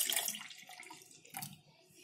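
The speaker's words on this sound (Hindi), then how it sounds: "अब इसमें हम डाल देंगे एक गिलास के करीब दूध" About a glass of milk poured into juice in a mixer jar for a shake, a brief liquid splash and gurgle that quickly fades, close and fairly quiet.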